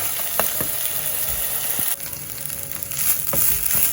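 Rice sizzling in oil in a pan as it is stirred before coconut milk goes in, a continuous close crackle broken by spoon scrapes and knocks.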